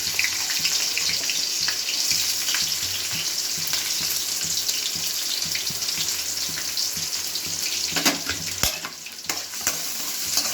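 Chopped onion fries in hot oil with cumin seeds for a Telangana-style chicken curry, giving a loud steady sizzle with stirring scrapes, close and continuous without talk.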